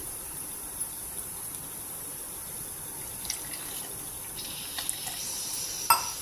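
Water pours steadily into a container of ground mixture for mushroom gravy, a soft continuous gush with a few faint clinks near the end, close and fairly quiet.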